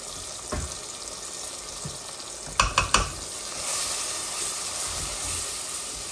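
Curry powder and cumin frying with onions in a pan, a steady hissing sizzle with a few sharp stirring knocks near the middle, then the sizzle swells slightly.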